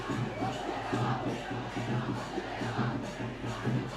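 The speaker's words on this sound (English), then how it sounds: "we can already hear the crowds, the schoolboy crowds just underneath us, very much pumped" Schoolboy crowd at a schools rugby league match, a steady roar of cheering and chanting heard from a short distance, with no break across the clip.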